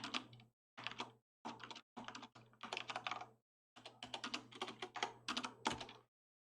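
Keys clatter on a computer keyboard as code is typed in several quick bursts separated by short pauses, close and fairly quiet, with no voice over it.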